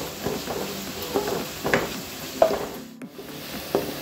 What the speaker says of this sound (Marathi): कांदा मी आता असा भाजून घेणार आहे